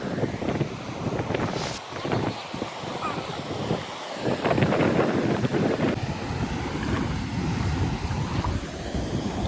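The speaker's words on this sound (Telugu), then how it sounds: "మనం ఫారెస్ట్లోకి వెళ్ళాలంటే ఫస్ట్ మనం ఈ వాగును క్రాస్ చేయాలి" Cold water of a forest stream in Andharban swishes and splashes as it is waded across, a continuous rushing wash with heavier sloshes and gusts of wind on the microphone.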